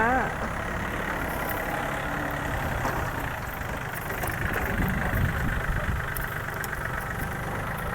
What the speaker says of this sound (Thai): คันนี้เป็นเครื่องยนต์ 3 สูบค่ะ 39 แรงม้า